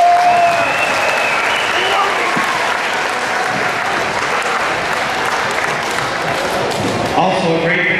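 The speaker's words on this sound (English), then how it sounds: "So please give them a round of applause." Audience applause at a school pep fest for football players, a sustained wash of clapping filling the room at steady loudness for several seconds.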